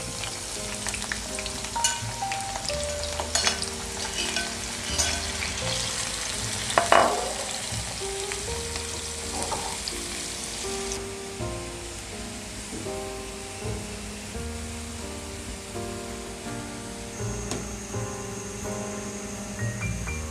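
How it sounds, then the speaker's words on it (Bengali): Sliced onions fry in hot oil in a frying pan, a loud steady sizzle and crackle with occasional stirring scrapes, continuous and close with no talking. "এখন আমি মাংসের জন্য পেঁয়াজ বেরেস্তা করে নিচ্ছি। পেঁয়াজটা আমি ভেজে নেব।"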